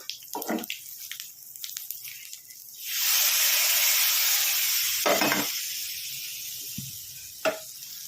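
Hot tempering poured into a gongura pulusu curry bursts into a loud, steady sizzle that hisses on for several seconds and slowly fades, after a few scraping clinks of a spoon against the pan.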